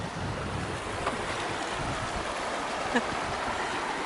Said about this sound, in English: This, I'm assuming, is the Waptis River.